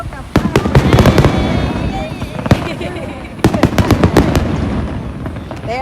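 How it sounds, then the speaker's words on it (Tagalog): Fireworks at the Kameoka fireworks festival in 2022, a rapid run of loud, sharp bursts and crackles in clusters, with people talking and calling out close by between the blasts. "our fireworks final countdown."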